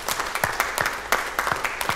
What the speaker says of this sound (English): give a round of applause for Pastor Kevin and Donna and his family.